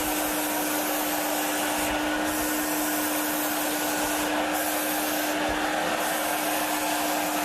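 A handheld sprayer mists a water-based product onto a person's hand and face, giving a steady close hiss with faint motor whir that runs for several seconds, swelling briefly in a few short bursts.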